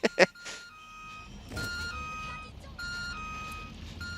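A bus reversing in the Watch Dogs: Legion video game sounds a repeating electronic beep, steady tones pulsing at regular intervals over low engine rumble after two sharp knocks at the start.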